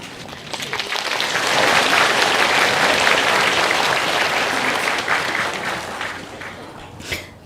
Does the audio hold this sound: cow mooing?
no